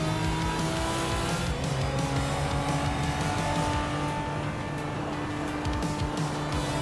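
A 1983 Toyota AE86 race car in a racing video game drones steadily at high revs, with intermittent tire squeal over a constant engine roar throughout.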